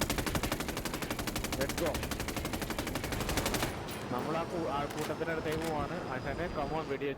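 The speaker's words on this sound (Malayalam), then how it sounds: "ഞാനെന്തായാലും ഇപ്പൊ വെടിവെച്ച് പൊട്ടിക്കാനുള്ള ശ്രമത്തിലാണ്" Rapid automatic gunfire rattles in a fast, even burst in the Ghost Recon Wildlands video game, then stops, and voices talk over scattered game sounds.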